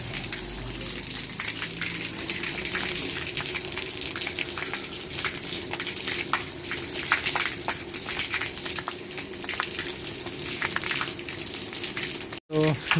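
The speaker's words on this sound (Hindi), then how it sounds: "तो ये मैं पानी दे रहा हूँ," Water pours from a hose or container onto garden plants, including a sprawling jasmine, a continuous rushing, splashing flow with crackly spatter that holds steady, close and fairly loud, ending in a brief handling knock.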